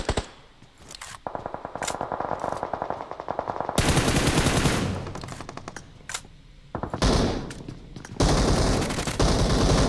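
Loud automatic gunfire crackles in PUBG Mobile during a championship qualifier endgame on a hilltop, with rapid bursts separated by short gaps and an echoing tail, no voices.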